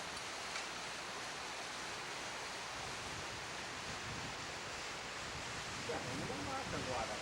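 Waterfall at a farm in Itirapina, a constant broadband rush of falling water heard from some distance, steady throughout with faint wind-like noise and a brief voice near the end.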